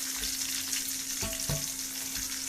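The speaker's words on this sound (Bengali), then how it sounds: "মাছের মাথাটা কিন্তু আমি ভেজে নেব খুবই মুড়মুড়ে করে ভাজতে হবে" A rohu fish head fries crisply in hot oil with a continuous, moderately loud sizzle and crackle, plus a couple of brief knocks, and no voice is heard.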